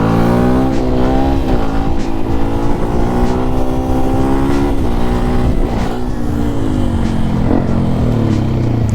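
A WRX 125 supermoto motorcycle engine drones steadily and loudly throughout, with small rises and dips in revs and no talk over it.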